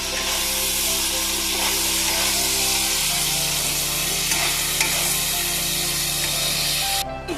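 Marinated chicken and tomatoes sizzle and fry in a pan while being stirred, a loud continuous crackle with scraping stir sounds and a low background hum that cuts out just before the end.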